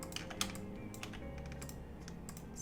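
Computer keyboard and mouse in use while editing in Photoshop: a quick scatter of soft key taps and clicks, close and quiet, over a low steady hum.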